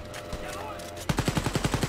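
Rapid automatic gunfire rattles loudly in a regular rhythm during a firefight in the video game Wolfenstein: Youngblood, breaking in abruptly over a dense backdrop of game noise.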